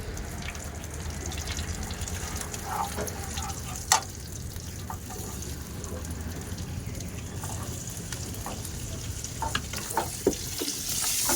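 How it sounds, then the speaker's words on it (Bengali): Prawns frying in a pan for a Bengali pumpkin prawn curry, a continuous dense sizzle and hiss close by with occasional stirring scrapes and light knocks. "চিংড়িটা আগে ভেজে নিলাম।"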